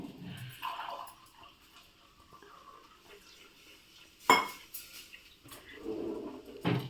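A ladle stirs mango curry in a pot, giving soft scraping and clinks of metal against the pot. One sharp knock stands out partway through. The sounds are faint and spaced out.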